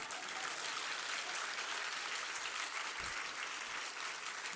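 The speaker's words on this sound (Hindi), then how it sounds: "ताली बजानो तो अच्छे ढंग से तो बढ़ाओ" Dense, steady clapping from an audience at a religious discourse gathering, loud and continuous throughout with no talk over it.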